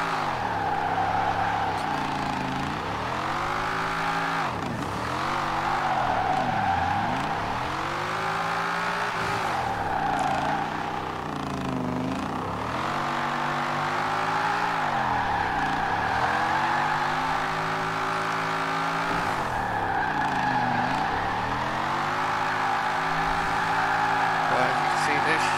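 A 1968 Mustang GT, the Eleanor car, drifting in Forza Horizon 4 on a G29 wheel: the engine revs rise and fall in repeated sweeps with a steady tire squeal, loud and continuous, and a voice talks faintly underneath.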